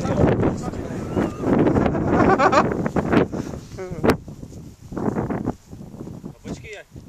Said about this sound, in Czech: Větr.